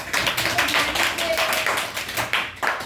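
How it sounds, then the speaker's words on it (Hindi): Students clap in a Hindi-medium Class 6 maths classroom, giving a short burst of dense, uneven applause that rises and falls in a few quick waves over about three seconds, close and fairly loud. "ताली बजाओ"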